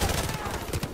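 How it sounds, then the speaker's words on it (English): A quick rattle of rapid gunshots from Call of Duty 4 Modern Warfare Remastered, a tight burst of repeated pops at moderate loudness lasting about a second. "Where in the hell am I being shot from exactly?"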